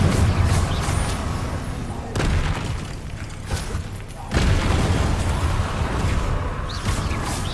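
Incendio fire spell blasts in Hogwarts Legacy, heavy booming bursts with noisy crackling between them, several loud hits spread across the stretch of game combat.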